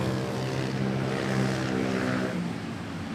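Airbus A350 airliner taxiing to park at Terminal 1 at Manila Airport, a steady loud engine drone with low tonal hum, continuous throughout and easing slightly near the end.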